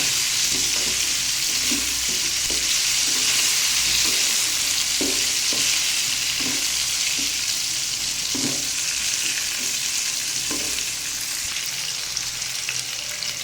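Chopped bottle gourd fries in a pan with a constant bright sizzle. A spatula scrapes and stirs in a regular rhythm, roughly every second, close and clear with no talking.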